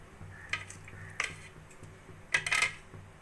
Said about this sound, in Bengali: এবার একটা ছুরির সাহায্যে আমি একটা কেটে দেখিয়ে দিচ্ছি